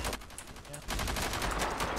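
Rapid Tommy gun fire from a video game shootout, a dense, loud rattling burst that continues steadily for about two seconds with no one speaking.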